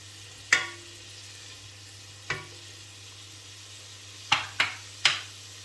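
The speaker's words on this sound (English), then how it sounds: "the chopped onion and just fry that for about, well, just up to 10 minutes" Chopped onion fries in a pan for mushroom soup, giving a steady, close sizzle broken by five sharp utensil knocks against the pan, with no talking.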